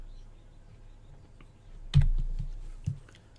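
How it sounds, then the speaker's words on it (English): A computer mouse clicks and the delete key is pressed while props are placed and removed in a game level editor: a few sharp, close clicks over a quiet, faintly humming background. "And as usual, I'm clicking to pick up, I'm hitting delete to get rid of them."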